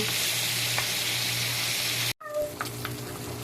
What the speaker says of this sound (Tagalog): magpiprito tayo ng pork chop